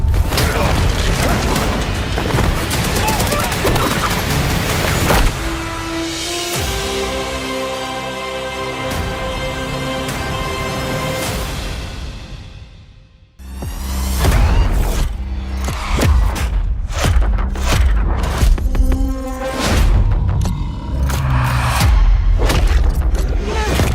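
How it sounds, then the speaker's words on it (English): Loud PlayStation 5 game action with explosions, booming impacts, mechanical clanks and rising tones, a brief drop near the middle, then dense thuds and bursts throughout. "We sure cause a lot of explosions."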